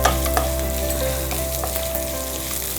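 Finely chopped ginger and sliced green chillies fry in hot oil in a pan, a loud, close, continuous sizzle with light crackles and occasional stirring scrapes, heard alone.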